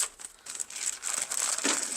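Crinkling of a plastic bag being cut, close and fairly soft, crackling in irregular bursts for about two seconds.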